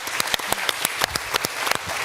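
Audience applause at an anniversary symposium and gala, a moderate patter of many hands punctuated by louder individual claps near the listener, steady across the span.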